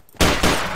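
Two sharp, loud gunshots from a Luger pistol in Garry's Mod, fired in quick succession with a short ringing tail after each.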